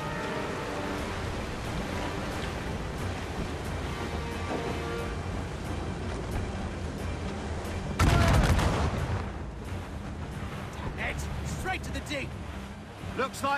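Cannon and mortar fire booms out during an Assassin's Creed Rogue naval battle, a dense barrage under ongoing shouting and battle noise, with one loud, close blast standing out midway.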